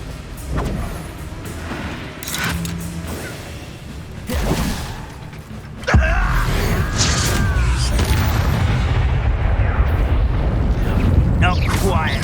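Fiery spell combat from Hogwarts Legacy, with a sudden loud burst that becomes a sustained roaring, crackling rush, preceded by scattered thumps and effects, with a voice talking over part of it.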